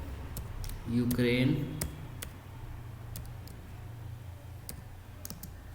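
Light clicking keystrokes on a computer keyboard tap out in short irregular bursts, fairly close and soft, while someone talks over part of the typing.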